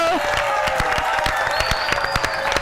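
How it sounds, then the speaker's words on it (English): An audience at a beach pitch-competition award ceremony applauds steadily, the dense clapping mixed with scattered cheers and whoops throughout. "Give Liv's Table, Olivia Uhashi, another round of applause"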